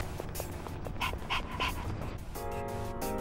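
Koromaru, the dog in the game Persona 3 Reload, pants with a few short breathy puffs against a quiet backdrop of game music and tones, with no one speaking.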